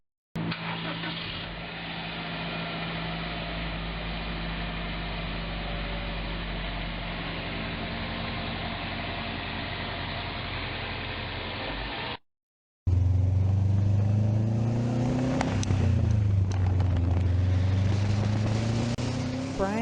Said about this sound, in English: In late 2006, the car was complete, and it was time for the first start and test drive